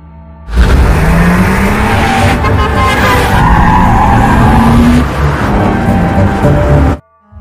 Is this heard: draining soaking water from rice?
no